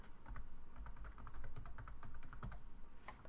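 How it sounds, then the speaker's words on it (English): Fingers tap out a password on a computer keyboard in quick, uneven clicks, close and fairly quiet with short pauses between bursts of keystrokes. "I'm going to type his password."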